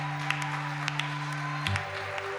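Church congregation applauding under a low sustained tone, with scattered sharp claps standing out and a brief shift in the background hum partway through.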